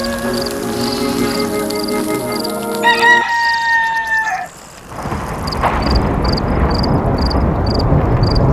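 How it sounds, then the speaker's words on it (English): A rooster in the god game Black & White 2 crows loudly and up close in a long drawn-out call over a steady ambient game soundscape, followed by a bed of hissing background noise. "This rooster wakes me up every single day"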